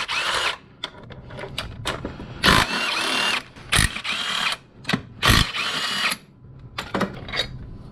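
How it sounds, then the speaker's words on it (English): A power tool loosens 16 mm engine mount bolts on a 2002–2006 MINI Cooper S R53, loud whirring bursts starting and stopping repeatedly with short ratcheting pauses between runs. "And then we loosen these 4 16 mil bolts."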